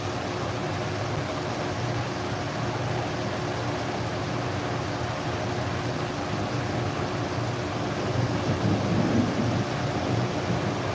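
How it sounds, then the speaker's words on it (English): Thunder rolls on and on through a storm in a continuous broad, loud rumble with steady rain-like hiss, swelling slightly near the end, with no talking. "It just keeps thundering and thundering."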